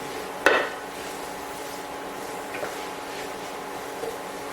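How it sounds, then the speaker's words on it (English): Cheesesteak ingredients sizzle steadily in a pan, a constant close frying hiss with a sharp clank of a utensil early on and a few faint scrapes of stirring. "you just letting everything cook together so they can all get the flavors of each other"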